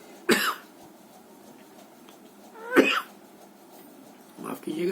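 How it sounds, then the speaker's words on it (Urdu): Three harsh coughs come in short bursts, spaced a couple of seconds apart, close and fairly loud above a quiet room background. "اسی وقت کھانسی آ گئی۔"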